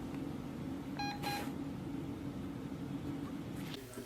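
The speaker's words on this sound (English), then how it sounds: "his little beep beep beep thing is, I think in the like earlier in the video he said it was his ghost detector or something" A handheld ghost detector gives a short burst of electronic beeps during a paranormal investigation, a few quick high tones heard once over a steady low hum in a quiet room.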